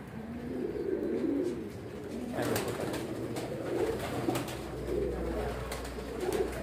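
Breeder pigeons, a rare black-and-white bird among them, coo in low, repeated throaty bursts at a moderate distance, set against steady background hum and faint chirps, with no talking.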